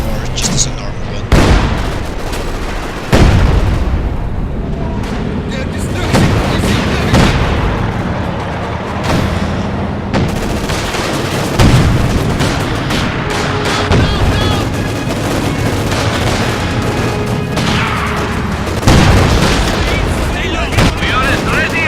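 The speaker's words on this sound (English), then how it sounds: "Use the assault gun as a artillery piece for short-range artillery, or just as a normal gun." An assault gun used as short-range artillery in a Company of Heroes 2 battle, with repeated heavy booms and gunfire crackling through a dense, continuous war soundscape, loud and close, under game voices.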